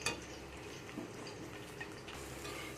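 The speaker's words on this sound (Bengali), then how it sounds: "সব মশলাকে আমি এখানে ভালো করে কষিয়ে নিচ্ছি" Spices frying in a pan for a cabbage curry, stirred with a spoon: a soft steady sizzle with faint scraping and light clinks, quiet and close.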